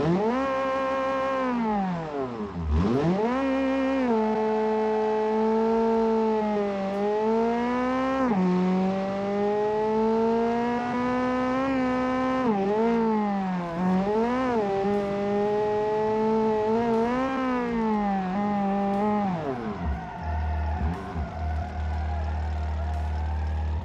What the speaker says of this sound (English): Oh my god, listen to the engine.